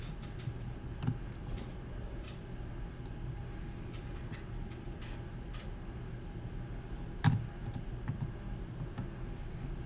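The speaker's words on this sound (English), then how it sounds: "I'm just going to hit the spacebar a few times" A computer keyboard typed on nearby, quiet clicking keys with a few sharper, louder spacebar presses standing out over faint room noise, no one speaking.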